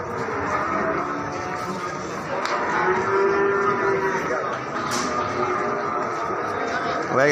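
Limousin cattle moo repeatedly amid the bustle of the Ambarawa livestock market in Indonesia, with people talking in the background.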